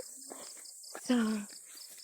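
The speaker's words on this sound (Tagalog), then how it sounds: "Kuliglig yan, di ba guys?" Crickets chirp at night along a road during a walk home, a thin, steady high trill running in the background throughout while someone briefly speaks close by.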